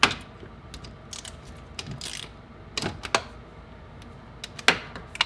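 Ratchet working on the intake manifold bolts of a Honda Insight, with scattered close metallic clicks and clatters of tools against metal in irregular bursts.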